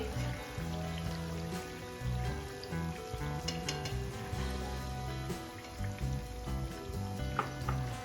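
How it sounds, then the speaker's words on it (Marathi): A spice paste of roasted coriander, sesame and coconut fries steadily in a pan with tomato paste for chicken khaliya, a soft continuous sizzle under louder background music. "आता आपल्याला ही पेस्ट पण छान परतून घ्यायची आहे"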